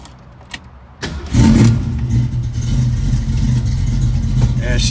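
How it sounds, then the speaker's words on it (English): A Mustang engine cranks and catches, then settles into a steady, rough idle, preceded by a few clicks and jingling keys. "So bear with me as I start it up real quickly."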